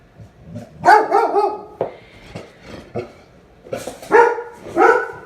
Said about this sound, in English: Yes, and puppies bark.